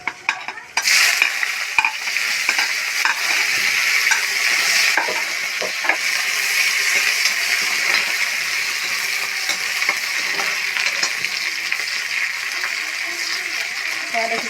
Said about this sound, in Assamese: এয়া মই এতিয়া এইখিনি এই গৰম তেলখিনিতে দি দিম।